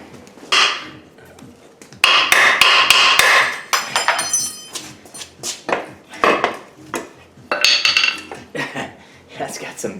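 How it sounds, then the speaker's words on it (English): A small hammer strikes a Ford Focus ST suspension part near a bent axle, with sharp metallic clanks in quick bursts, loud and close, and a few quieter taps between them. "Get a little hammer."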